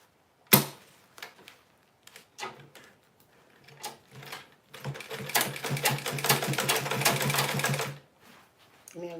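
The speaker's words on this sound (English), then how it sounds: "So let's sew it on the band." A sewing machine stitches a picture onto a band, starting with a few short bursts and clicks, then running in a sustained, rapid whirring stitch for about three seconds before stopping.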